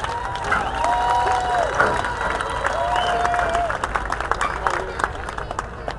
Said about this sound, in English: a big round of applause for all of our winners